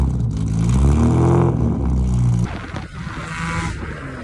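A 1951 Jaguar XK120 competition roadster racing engine starts, then roars and revs loudly up close, its pitch rising then dropping, followed by a rougher idling rumble.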